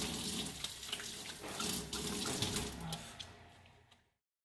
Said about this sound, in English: we're going to add a little bit of water to activate it